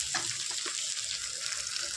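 Water splashes steadily into a pan of sautéed potatoes, producing a continuous hissing, sizzling rush that stays close and even for the whole two seconds.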